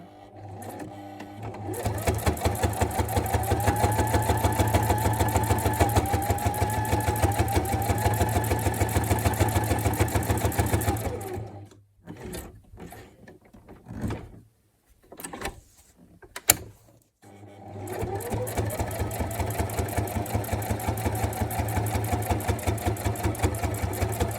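A sewing machine stitches in a fast, even mechanical rhythm, stops for a pause with a few handling clicks and taps, then runs again for a back stitch.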